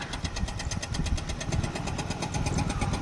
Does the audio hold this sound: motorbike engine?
yes